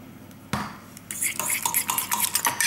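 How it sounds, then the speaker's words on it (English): White and black pepper being stirred through guacamole with a utensil, giving a sharp tap against the bowl, then a run of soft, wet scraping and clinking strokes in an uneven rhythm, close and moderately loud, with no talk. "And mix that through really good so you don't get like one really peppery chunk"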